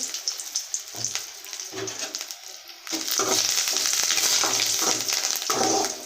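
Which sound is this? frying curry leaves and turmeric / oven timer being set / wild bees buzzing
frying curry leaves and turmeric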